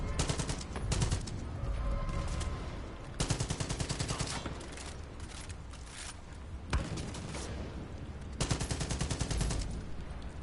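Rapid automatic gunfire from shooting enemies in Far Cry 5, sounding in several loud sustained bursts with short pauses between them.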